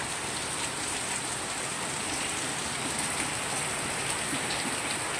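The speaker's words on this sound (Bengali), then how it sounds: "বৃষ্টিটা দেখো কত সুন্দর বৃষ্টিটা পড়ছে" Rain falls steadily on surfaces in an even, unbroken hiss of drops, fairly loud and close, with no voices.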